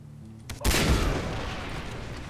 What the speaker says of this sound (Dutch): Ik ben al aan het sniperen.